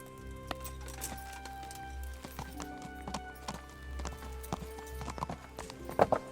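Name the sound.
horse hooves in video game Kingdom Come Deliverance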